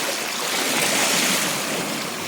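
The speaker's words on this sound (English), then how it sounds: "There are some small breakers from the winds yesterday." Small breakers from the previous day's wind wash steadily onto Vermilion beach on Lake Superior, a continuous close surf hiss with a gentle swell in loudness and no voices.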